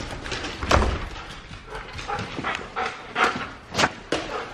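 A dog excited over Christmas treats pants, snuffles and gives short sharp whimpers and yips in irregular bursts, close by, with no talk.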